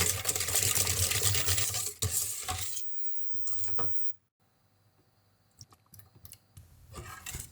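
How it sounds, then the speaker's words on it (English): A spoon works eggs into a thick chocolate brownie batter in a bowl, giving a loud, scraping, sloshing stir at first, then a pause and a few quieter scrapes and taps. "And give it a good stir."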